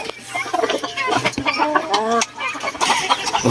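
Silkie and backyard chickens cluck close by in a steady run of short, throaty, varied calls that overlap one another.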